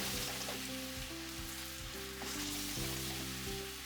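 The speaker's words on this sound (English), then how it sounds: "The tip is cooking the pork quickly over high heat and brown it beautifully." Pork slices frying in a hot pan over high heat for ginger pork, a steady dense sizzle running loud and close throughout, with faint hum tones underneath and no talking.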